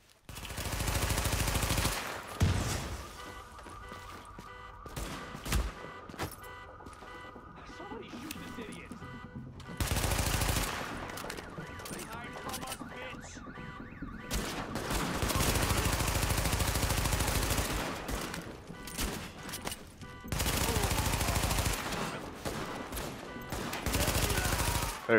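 Automatic gunfire in the Tom Clancy's The Division beta rattles in long, loud sustained bursts, broken by quieter gaps with scattered single shots, and a voice is faintly present at times.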